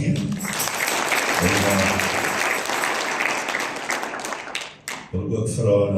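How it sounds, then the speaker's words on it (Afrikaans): An audience claps together in sustained, dense applause at a morning gathering, the clapping steady and fairly loud before fading briefly, with voices and some talk over it. "Kan ons nog 'n hande klap gee?"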